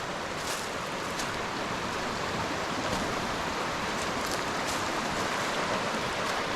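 A small backyard river near a campsite outside Mount Baker in Baker Snoqualmie National Forest, a steady, close, full rushing of water with no breaks, continuous and even throughout.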